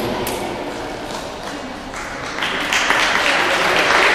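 A crowd applauds at an award ceremony for a youth football team, with a steady wash of clapping that swells louder toward the end, while a voice speaks over it.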